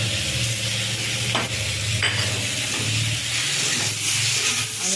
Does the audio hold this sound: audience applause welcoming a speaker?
no